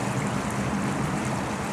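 Small waterfall and eddy on a river where a dumped steel beam sits in the current, giving a steady, close rushing splash of water with broad continuous hiss and no talk.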